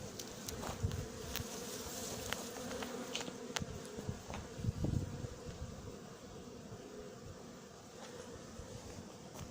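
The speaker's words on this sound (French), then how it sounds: "J'ai plein d'abeilles captives." A dense, steady hum of many honeybees held captive under a mesh tent in front of a hive, continuous and fairly close, with sharp passing buzzes of individual bees.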